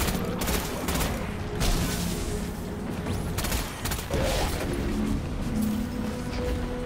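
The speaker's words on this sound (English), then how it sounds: "This shotgun is actually... It packs a punch." Shotgun fire in Destiny 2 during a Beyond Light campaign boss fight against Vex enemies: loud, punchy blasts land in rapid irregular succession, mixed with booming impacts and mechanical clatter.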